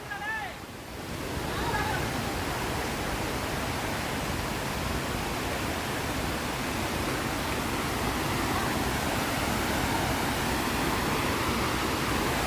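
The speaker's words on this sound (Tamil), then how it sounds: "பார்த்தீங்கன்னா தண்ணி எவ்வளோ தண்ணி போகுது பாருங்கள் இதுதான் அந்த அருவி" A powerful waterfall in the Kolli Hills roars in a constant broadband rush, loud and close, after a brief moment of quieter sound at the start.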